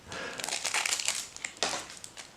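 Transformers trading card game packs are cut open with scissors, giving a close, crinkly rustle of foil wrappers in quick irregular bursts.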